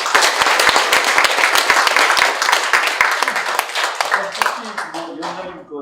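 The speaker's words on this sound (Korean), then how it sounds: "김종명위원님께 다시 한번 뜨거운 박수를" An audience at a national strategy academic conference bursts into loud, dense applause that holds steady and then tapers off toward the end, with a speaker's voice briefly emerging as the clapping fades.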